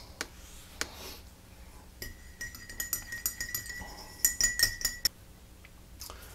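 A spoon clinks rhythmically against the sides of a cup while stirring lime blossom honey into mild black tea, with bright repeated metallic taps in quick runs and short pauses, close up and with no talking.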